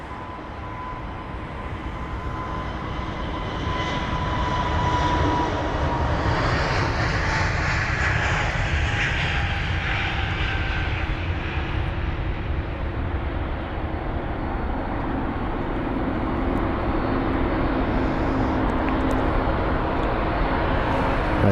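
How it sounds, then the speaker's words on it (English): Airbus A320neo taking off from London Heathrow, a low engine rumble swelling into a loud sustained roar with a faint whining tone as it climbs, then holding steady and continuous, no voices. "Off to Dublin goes the Airbus A320neo,"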